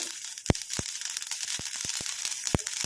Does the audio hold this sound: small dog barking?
no